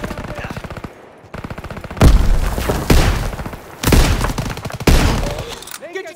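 Gunfire and a grenade blast from the World War II shooter Call of Duty: WWII, with dense rapid shots ending in loud booming bursts at close range, repeated in several heavy surges as voices call out beneath.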